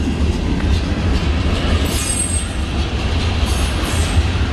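Norfolk Southern NS 153-11 freight train rolling past in Duluth, a loud, steady rumble of wheels and cars close by, with faint high wheel squeals rising briefly and no voices.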